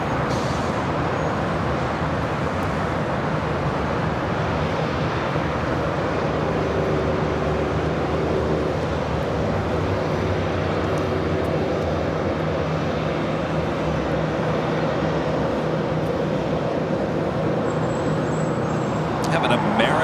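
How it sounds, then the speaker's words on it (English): A JetBlue Airways Airbus A321 roars on its takeoff roll at Los Angeles airport, a loud, steady broadband engine rumble that holds for about twenty seconds alongside distant road traffic. "JetBlue Airways Flight 324 taking off to JFK on the A321."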